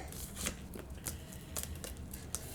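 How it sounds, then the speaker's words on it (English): Tarot cards are shuffled close up during a reading, a soft run of riffling, papery flicks and slides at an irregular pace, faint and alone. "Let's go one more shuffle through."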